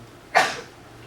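A single short, sharp sneeze in a quiet presentation room, an abrupt burst that fades within a fraction of a second.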